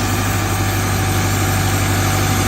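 Tractor engine running in its lowest gear, a loud, steady, unbroken drone with a deep hum and constant vibration throughout.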